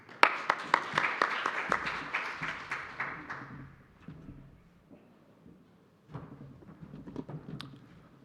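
Conference audience applauds a presenter at a paper session on networks and platforms, dense clapping for about three seconds that thins out, then a few scattered claps return near the end.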